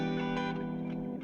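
Guitar played through effects with a touch of distortion, echo and chorus rings out in a short sustained phrase with soft note changes, alone.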